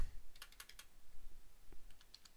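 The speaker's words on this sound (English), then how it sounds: "Typing backwards." Keys tapped on a computer keyboard, a few quick clicks in small clusters with pauses between them, faint and close in a quiet room.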